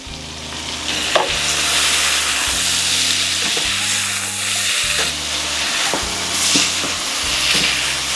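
Strips of smoked and classic vegan gyros sizzle and fry in a hot pan while being gently stirred, with a steady crackling hiss and occasional scrapes from the utensil close by.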